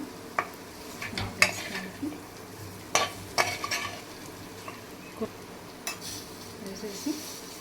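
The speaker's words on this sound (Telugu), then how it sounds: "ఇంకొంచెం కలర్ చేంజ్ అయ్యే వరకు డ్రైగా ఫ్రై చేసుకుందాం" Pepper chicken frying in a pan under a soft, steady sizzle, while a utensil scrapes and clinks against the pan in irregular stirring strokes, close and fairly quiet.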